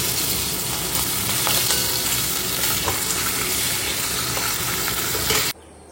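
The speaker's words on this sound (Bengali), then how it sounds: "এই তেলেই ভেজে নিই, মাছের মাথা দুটো আগে ভেজে নিই" Two fish heads frying in leftover fish oil, a loud, dense, continuous sizzle with faint stirring scrapes that cuts off abruptly near the end.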